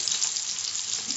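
Goan recheado-spiced mackerel frying in hot oil, a steady bright sizzle and crackle with no talking, held at an even level throughout.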